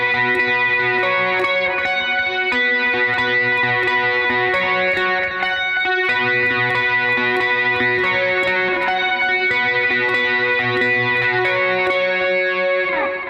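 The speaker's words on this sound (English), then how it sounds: "And the lead guitar is playing this part." A distorted electric lead guitar plays a high melodic line on the first string, with chorus and echo effects, loud and sustained throughout, with no talking.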